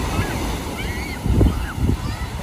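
Ocean waves roll onto a Mexican beach, a steady surf wash with a couple of swelling crashes, mixed with wind and distant voices.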